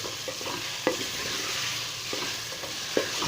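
Potato pieces fry in hot oil for potato pulao, a steady sizzle broken by a few sharp scrapes and clinks as a spoon stirs them in the pan, close and without talk.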